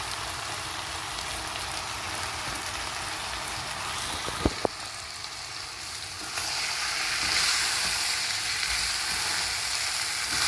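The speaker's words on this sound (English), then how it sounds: "Mix everything well, just like I'm doing. The tomatoes, the capsicum, everything to mix up with the black pea." Black beans cooking with tomatoes and capsicum in a pan give a steady close sizzle, with a couple of sharp spoon clicks as the mix is stirred and the frying growing slightly louder.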